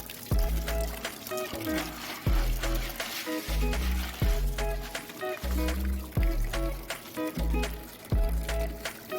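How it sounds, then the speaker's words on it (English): Water pours and splashes over lava rocks being rinsed for an aquarium, a close, steady run of gushing and dribbling broken by repeated bursts, with no talk over it. "Just want to give it a quick rinse, you know, to get any debris, any fish food, any particles off of it."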